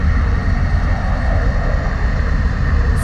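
North American XB-70 bomber's jet engines at takeoff in the Flight Simulator X video game, heard from an outside view as a loud, steady, dense roar with no speech.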